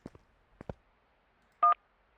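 A phone in the Car Mechanic Simulator video game gives a short, bright electronic beep in near silence, after a few soft clicks.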